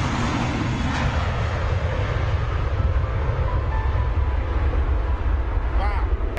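Airbus A380 airliners taking off, a loud, steady jet engine roar filling the whole stretch with broad rumble and hiss, heard from nearby at the airfield.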